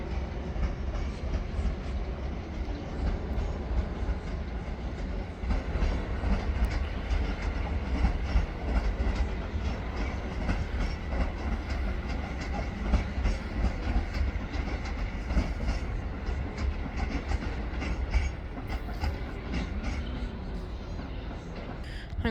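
At Clapham Junction in evening rush hour, a Gatwick Express train from London Victoria toward Brighton comes in, giving a sustained low rumble with irregular wheel clatter, moderately distant and steady throughout.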